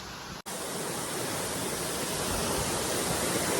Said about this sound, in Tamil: ஒரு அருவியை பார்த்தோம்